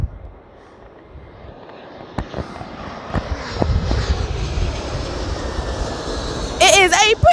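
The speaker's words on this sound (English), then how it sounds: "It is a British Airways Airbus" A British Airways Airbus A320-200 jet roars past at London Heathrow, a broad engine rumble building and holding loud with wind buffeting the microphone near the end.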